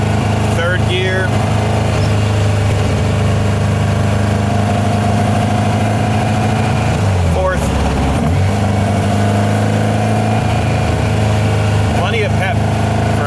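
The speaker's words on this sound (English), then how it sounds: "As it warms up, the engine is much more responsive." A 1955 VW Beetle engine, 2276cc, runs steadily with a low, throbbing idle, rising briefly in revs once or twice, heard from inside the car.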